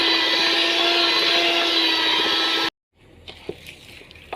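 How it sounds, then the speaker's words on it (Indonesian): An electric mixer whirs steadily and loudly through thick pempek fish dough, then cuts off abruptly, leaving quiet handling clicks and knocks. "Kita mixer sampai mengental Bunda ya."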